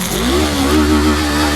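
A motorbike engine is revved close by in a short, loud burst. Its buzzing drone rises slightly in pitch and then holds for under two seconds.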